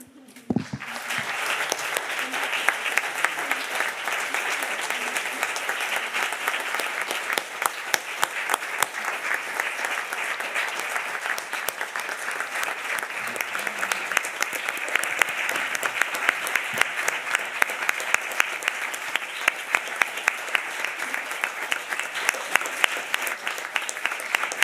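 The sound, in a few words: audience applause after PhD defence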